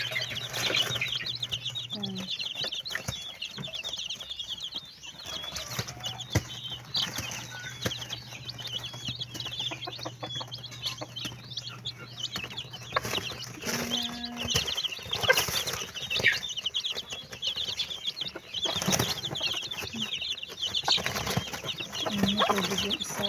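Hens cluck and murmur softly in a yard, with scattered chicken calls and faint rustling over a steady outdoor background.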